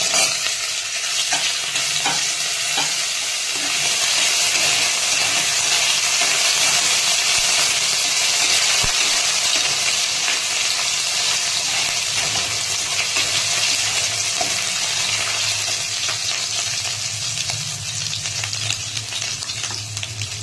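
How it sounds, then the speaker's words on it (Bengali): Ginger garlic paste hitting hot oil in a pan, a loud continuous sizzle and hiss with occasional stirring scrapes, steady for the whole stretch without talk. "তেল গরম হয়ে গেছে, আদা রসুনের পেস্টটা ছেড়ে দিলাম।"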